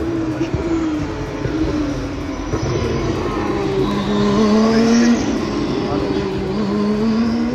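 Formula 2 race cars run through the slow final chicane at Spa during the 2023 Belgian Grand Prix weekend, engines droning steadily with rising and falling pitch as they pass, loud and continuous with crowd noise underneath.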